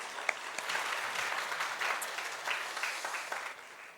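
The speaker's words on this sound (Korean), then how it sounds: "영광의 박수 한번 올려드립시오" A congregation claps together during a Christmas church worship service, a sustained, moderately soft wash of applause with a few sharper individual claps that tails off toward the end.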